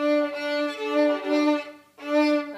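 A violin note bowed poorly by moving from the shoulder, with a harsh, uneven tone, sustained for over a second, briefly breaking off, then resuming, close and fairly loud.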